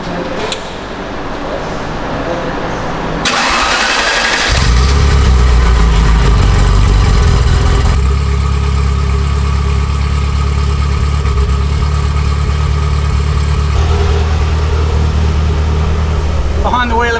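A Ferrari F40 engine cranks and fires, then settles into a loud, close idle with a throbbing low rumble, preceded by quieter shuffling and background voices.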